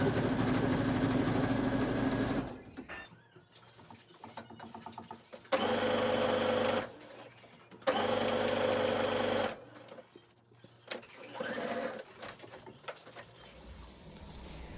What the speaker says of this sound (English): I'm sewing the front of the shirt down